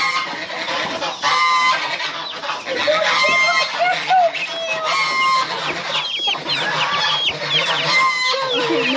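Chickens in a coop cluck and squawk nonstop at close range, with several birds calling over one another in a busy flock, and faint talk in the background.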